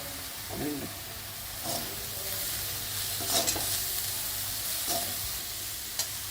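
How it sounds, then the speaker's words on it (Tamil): Moong dal sundal being stirred in a pan with a spoon while it fries, giving soft scraping strokes over a steady sizzle and hiss, with a few brief louder stirs close by. "இந்த பயத்தம்பருப்பு சுண்டலை ரொம்ப கிளறக்கூடாது"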